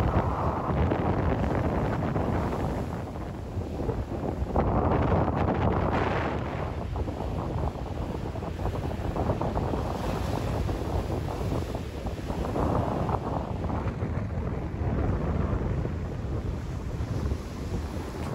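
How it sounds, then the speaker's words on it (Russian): Strong wind over a stormy lake roars and buffets continuously, with rushing gusts and choppy water churning underneath; no voices. "С утра и весь день дул очень сильный ветер"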